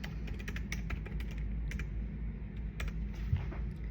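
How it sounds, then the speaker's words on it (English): Steady keyboard typing on a computer, a rapid run of light clicky keystrokes continuing without pause over a low background hum, close and moderately loud. "So when I'm typing, like, I'm not even paying attention if I'm doing a lot of typos"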